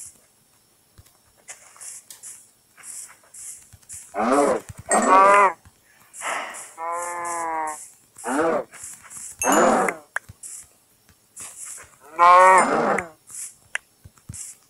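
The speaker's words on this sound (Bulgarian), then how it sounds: "Добре, още крави." Cows moo repeatedly in Minecraft survival gameplay, a series of short, loud, close moos in irregular bursts, mixed with small clicks and faint game sounds in between.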